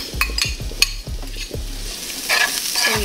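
Onions hitting a little olive oil in a hot pan, a few sharp thuds and clatters of pieces dropping in, then a rising sizzle building near the end, no voices.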